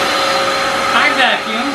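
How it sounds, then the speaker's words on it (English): A household vacuum cleaner runs loud and close with a steady whining drone, its pitch shifting briefly midway before settling again. "Hi, vacuum."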